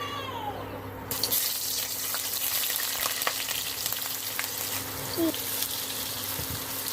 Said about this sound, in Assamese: এতিয়া ইয়াতে পিঁয়াজ দি দিম তেল গৰম হৈ গ'ল।